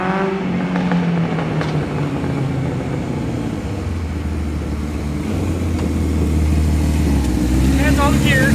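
A 1978 Kawasaki KZ1000 LTD motorcycle accelerates up a short driveway, its engine climbing and dropping through several gear changes over a steady loud rumble, with a voice talking over it.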